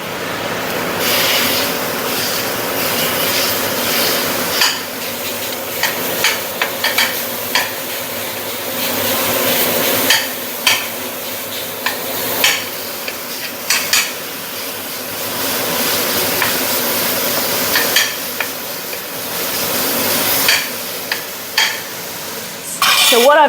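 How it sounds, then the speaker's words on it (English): Beef mince sizzling in a hot frying pan turned up on high, a steady close crackling hiss throughout with occasional sharper pops and clinks of a utensil stirring and flattening the meat. "You hear that sizzle?"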